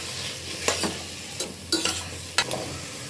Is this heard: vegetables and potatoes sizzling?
yes